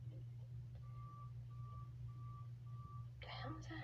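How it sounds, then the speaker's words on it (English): A mail truck backing up sends out four evenly spaced reversing beeps, faint and a little distant over a steady low hum, followed by a brief burst of broader noise. "Oh, that might be the mail truck."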